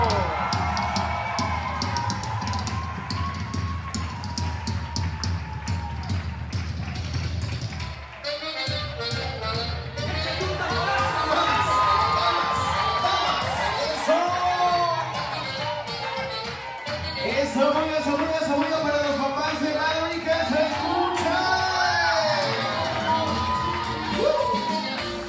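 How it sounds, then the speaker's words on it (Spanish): Crowd at a quinceañera party cheering and applauding as the birthday girl's parents are introduced, a steady dense wash of clapping, whoops and shouts throughout, with a voice on a microphone and music-like tones mixed in. "¡Los aplausos!"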